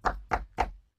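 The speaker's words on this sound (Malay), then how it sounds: "Tiba-tiba dengar orang ketuk pintu." Three firm knocks on a door, evenly spaced and close, each a sharp thud that fades quickly, followed by silence.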